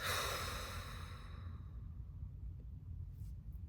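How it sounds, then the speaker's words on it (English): A single long mouth exhale during a guided breathing meditation, loud and breathy at first then fading over about a second and a half into quiet room tone, with no talking. "One last inhale through the nose. Exhale out the mouth."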